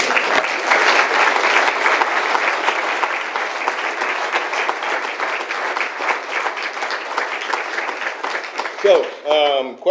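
Audience applause following a talk on microaggressions, implicit bias and privilege: steady, dense clapping from a large crowd filling the room for several seconds, tapering near the end as a voice begins to speak.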